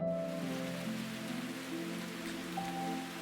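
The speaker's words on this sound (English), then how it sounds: "It somehow started to miraculously rain all of a sudden." Rain patters softly and steadily in the Root Letter video game, a faint even hiss beneath sustained musical tones.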